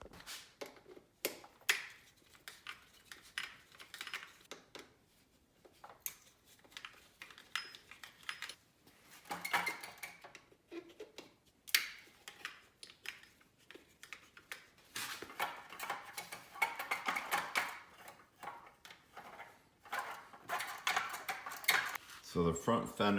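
Front fender being unbolted from a CFMoto 650NK motorcycle: repeated metallic clinks, ratcheting and tool clatter in irregular bursts, close by, with a voice talking at points.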